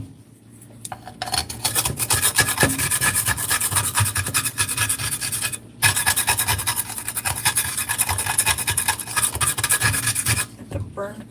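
A pan is scraped clean of burnt bits after cooking linguiça, with persistent, rough rasping strokes close up and a brief pause midway.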